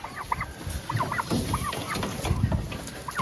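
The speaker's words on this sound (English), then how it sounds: "Come on, turkeys." Turkeys on a farm gobbling and clucking in repeated short calls, mid-distance, over constant outdoor background noise with no talk.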